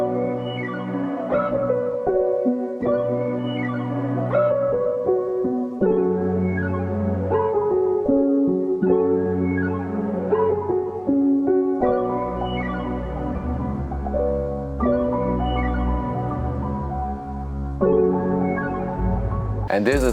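A full music loop layers a soft pad, an arpeggiated bell line, cello and piano, with chords repeating in regular bars at steady, moderate volume and no voices over it.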